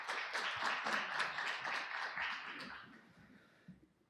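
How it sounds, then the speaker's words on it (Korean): An audience at a VR/AR standardization forum applauds to welcome a speaker from a haptics company, with dense, steady clapping that gradually thins and fades away over a few seconds. "큰 박수로 모시도록 하겠습니다"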